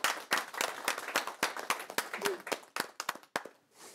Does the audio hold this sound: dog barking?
no